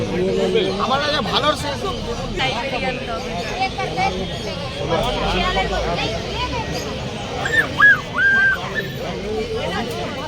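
Dogs at a cheap dog market in Kolkata give short yips and whimpers, clearest in a brief burst near the end, against steady crowd babble and people talking throughout.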